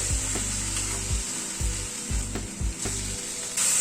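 Spice masala with softened tomatoes being sautéed in a pan, a steady close sizzle broken by repeated scraping thumps of a spatula against the pan at an irregular rhythm, with no talking.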